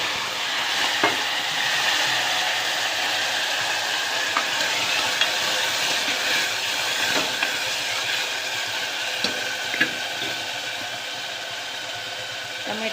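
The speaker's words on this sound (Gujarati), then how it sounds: "સરસ મજાનો વઘાર થાય છે," Mustard seeds, cumin and fenugreek powder sizzle steadily in hot oil for an Indian tempering, a continuous close hiss with scattered small pops and crackles.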